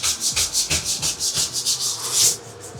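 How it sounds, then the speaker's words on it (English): A bathroom surface being scrubbed by hand, giving a quick, even rhythm of about a dozen close, brushy back-and-forth strokes that fade out at the end. "I ain't even scrubbing all that hard."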